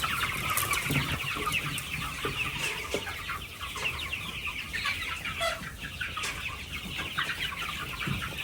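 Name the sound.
chickens clucking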